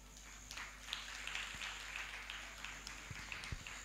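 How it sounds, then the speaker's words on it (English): A church congregation claps for the Holy Spirit during a weekly worship service, producing a faint, steady patter of applause heard from a distance with a few sharper hand claps near the end. "Tell them to clap for the Holy Spirit."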